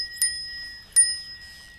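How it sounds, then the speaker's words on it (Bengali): A bicycle bell rings twice, about three quarters of a second apart, each a bright, clear ding with a short ringing tail over quiet background. "চালাও চালাও, বেল দাও"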